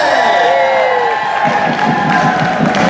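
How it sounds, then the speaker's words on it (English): A convention audience cheers, whoops and claps for a singer on stage at a Supernatural fan event in New Jersey, a loud, dense and continuous crowd roar with shouts cutting through. "Another round of applause for these guys"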